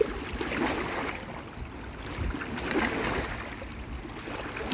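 Waves wash against the shore on a Norwegian coast in a steady, broadband rush that swells and ebbs over a few seconds, with no talking.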